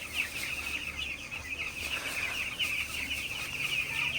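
Broiler chickens cluck and murmur continuously throughout, a flock sound with a steady background hum, moderately close and no people talking.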